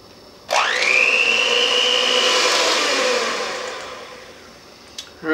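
An electric mixer whirs up sharply as sugar is beaten into homemade eggnog, holding a steady high whine for a few seconds before slowing and fading, with a brief knock near the end.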